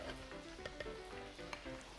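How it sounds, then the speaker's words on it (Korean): Shrimp frying in hot oil gives a continuous close sizzle, dotted with small crackles and pops. "자글자글자글자글 하면서 네. 튀김이 튀겨지고 있는 동안"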